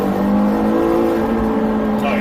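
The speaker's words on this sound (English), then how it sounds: "The engine just like screams." A McLaren GT engine with reduced catalytic converter restriction revs to a high, screaming tone, a steady sustained drone with a rising note at the end, under a voice talking.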